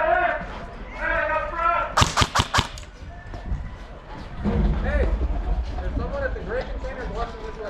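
Airsoft gun firing during a tactical league airsoft event at an outdoor field, a quick burst of about five sharp close shots between stretches of players talking.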